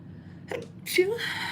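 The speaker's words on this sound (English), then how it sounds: "I have to sneeze, so give me a second here." A short breathy catch of air, then a single sharp sneeze close to the microphone, trailing off into a soft exhale.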